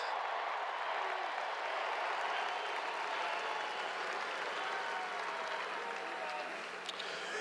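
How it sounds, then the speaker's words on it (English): A tremendous round of applause for the University of Georgia football coaching staff at a team ceremony, continuous and even in level, heard alone without voices. "I want to give our staff a tremendous round of applause"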